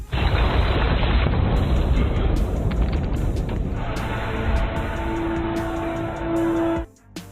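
A bomb explosion in a film: a loud, sustained rumbling boom fills the scene, a dense roaring blast that holds for several seconds before cutting off abruptly.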